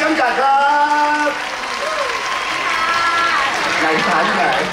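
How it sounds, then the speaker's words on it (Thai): Audience applause at a Thai television stage event, a dense wash of clapping running steadily under a voice and tonal sound throughout. "ขอเสียงปรบมือ"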